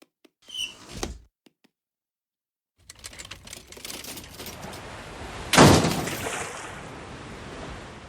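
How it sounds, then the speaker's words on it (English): Cartoon sliding door in a house slanting toward a cliff, a few quiet clicks, then a rumbling slide that builds into a loud whoosh and settles into a steady wash. "Can you open the sliding door?"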